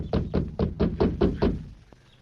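Heavy pounding on a wooden door in an audio drama: seven hard, evenly spaced fist blows in quick succession, close and loud, ending with a faint tap.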